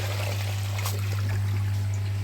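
Koi pond waste water back-flushing out of a pipe, a steady close trickling stream over a constant low hum, heard alone without talk.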